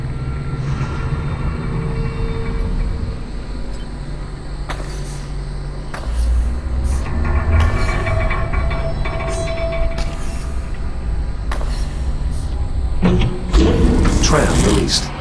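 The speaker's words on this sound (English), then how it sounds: "Tram released." In the video game Lone Echo 2, a tram is released and starts moving, producing a heavy mechanical rumble with clanks and ratcheting clicks, growing louder toward the end, with a voice speaking over it.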